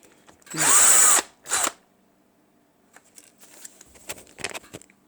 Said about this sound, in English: And I'll drill out all of these holes here.